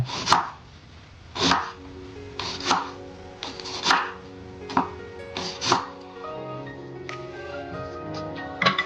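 A knife cuts onions into large rings on a board, with about a dozen crisp, close chopping strikes at an uneven pace over a quiet kitchen background.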